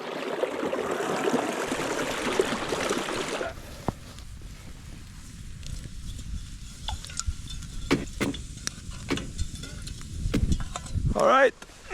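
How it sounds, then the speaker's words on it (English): A running stream at an outdoor campsite, steady broadband water rush for the first few seconds, then fainter trickling with scattered clicks and handling noises, ending in a louder splash. "That is a running stream I found earlier."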